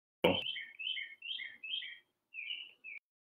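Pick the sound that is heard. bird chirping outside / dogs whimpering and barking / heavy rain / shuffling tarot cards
bird chirping outside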